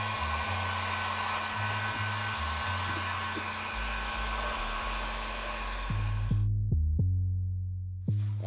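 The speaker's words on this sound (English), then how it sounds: "we're gonna go ahead and grab our heat gun and seal" A heat gun seals the sanded edges of craft foam for a Zelda Breath of the Wild traveler's shield, blowing a steady, close, loud whoosh that cuts out near the end, leaving a few soft thumps before the blowing briefly resumes.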